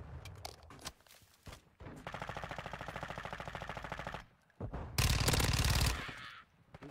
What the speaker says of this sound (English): Freaking sniper rifle.